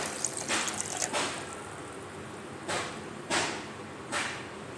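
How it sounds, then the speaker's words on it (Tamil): Water poured from a vessel onto a quarter kilo of sugar to make syrup for milk buns, heard as several short, soft splashing bursts separated by brief pauses. "சர்க்கரை முகந்து அதுக்கப்புறமே கொஞ்சம் எச்சா நம்ம தண்ணி ஊற்றிக்கலாம்."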